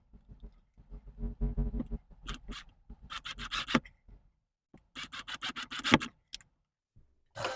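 Screws are turned by hand into the wood of a Scamp camper cabinet, giving close, gritty scraping and squeaking strokes in short bursts with brief silent pauses.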